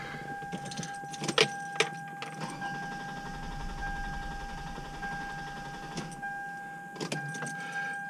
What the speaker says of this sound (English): we are prepared for our